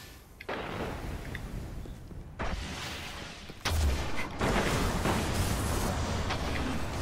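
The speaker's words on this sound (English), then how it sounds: "Fuck, I got hit with a rocket." Rocket explosions in the Destiny video game (Trials match), heavy booming blasts that swell in at about half a second, near 2.4 seconds and again at 3.7 seconds, each followed by a loud sustained rumbling roar.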